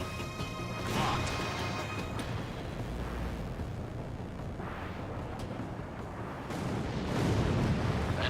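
An enemy bomber explodes in flight during an air combat video game, heavy rumbling blasts and crashing booms layered over continuous jet and battle noise, with surges near the start and the end.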